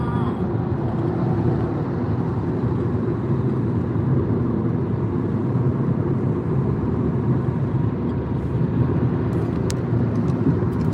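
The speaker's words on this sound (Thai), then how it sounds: "ขับรถไปเรื่อยๆ กว่าจะถึงบ้านค่ะ" A car cruises along a road on a long drive home, heard from inside the cabin as a steady, even low rumble of engine and tyre noise that never lets up.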